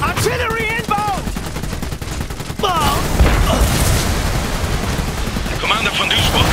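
Artillery barrage in the Iron Harvest video game, with booming shell impacts and crackling gunfire in a loud, dense battlefield din, and shouted voices and whistling effects over the top.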